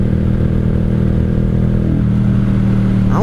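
A 1995 Honda Shadow VLX 600 V-twin motorcycle engine runs loud and close, a steady low rumble that rises in pitch as it accelerates near the end.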